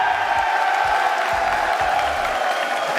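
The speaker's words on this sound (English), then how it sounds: "You're hearing all the chants, the cheering, the clapping here." Crowd at a Rocket League World Championship esports arena cheering, whooping and clapping, a steady loud wash of noise with no gaps.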